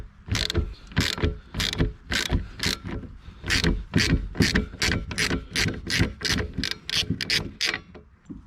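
30mm socket on a ratchet undoing the rear wiper cap of a BMW E61, a quick run of close, crisp clicking strokes repeating steadily for several seconds with no talking.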